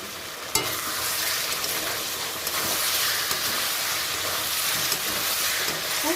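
Masala for coriander chicken frying in oil in a pan, a steady broadband sizzle that holds throughout, with a sharp utensil knock near the start and faint stirring scrapes, close and loud with no talk.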